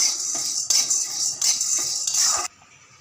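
A spoon stirs peanuts and ginger in a pan for idli chutney, making loud rasping scrapes in bursts of about half a second, then stopping abruptly.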